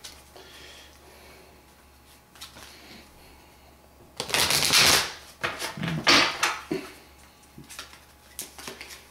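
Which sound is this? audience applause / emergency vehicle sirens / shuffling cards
shuffling cards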